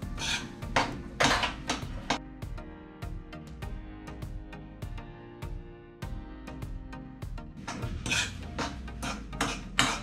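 A spoon stirring sheera in a metal cooking pan, with repeated scraping and clinking strokes in an irregular rhythm, close and fairly loud, continuing steadily throughout.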